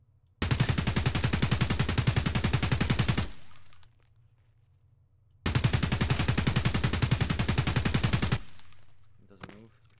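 Two long sustained bursts of automatic gunfire in the Escape from Tarkov video game, each a rapid, evenly spaced stream of loud shots lasting about three seconds, separated by a short quiet gap.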